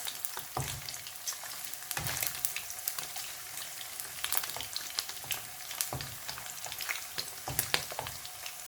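Cubes of paneer sizzle and crackle in hot oil in a pan, with a continuous frying hiss and occasional soft thuds as the pieces are flipped.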